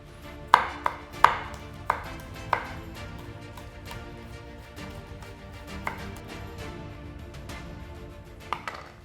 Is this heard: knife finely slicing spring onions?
yes